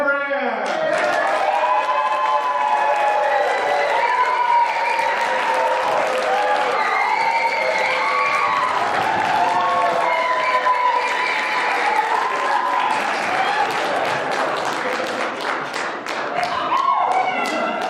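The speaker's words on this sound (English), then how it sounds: "put your hands together, and cheer the biggest rock star cheer you can have or ever have" An audience at a speech evaluation contest claps and cheers loudly, with dense applause, whoops and stamping, while a voice talks over it.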